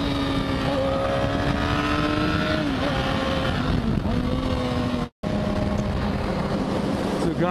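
A Yamaha YZF R6 sport bike with an Akrapovic megaphone exhaust holds a high, steady engine note that wavers slightly in pitch, loud and close, with a brief dropout near the end and wind rushing underneath.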